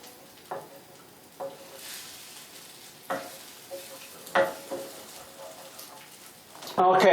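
Scrambled eggs with Grand Marnier and cream cheese bubble and sizzle softly in a pan, a faint steady crackle broken by several sharp stirring scrapes and taps, ending with a louder burst of clatter.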